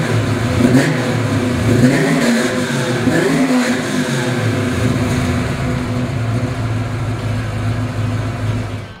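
A 1969 Chevrolet Camaro RS SS V8 engine starts, revs up loudly and then settles into a steady, rumbling idle close by, with no talking.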